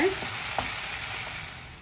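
Potato masala fries in a pan with a continuous close sizzle, broken by a few soft scrapes as a utensil stirs it.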